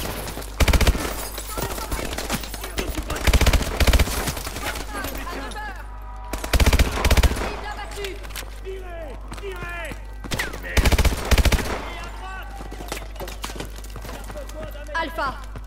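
Bursts of automatic gunfire and loud shots in Call of Duty Advanced Warfare erupt in several clusters amid a busy battle soundscape, with voices speaking in between the volleys.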